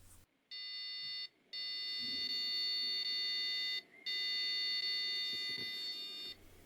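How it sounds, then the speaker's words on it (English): Three long, steady electronic POST beep codes from a PC speaker on a FIC LEO 386SX-16V mainboard, likely signalling a memory error, each lasting a second or two, separated by brief gaps, with a tonal, buzzy quality. "we are getting post-beep codes, which probably report memory error"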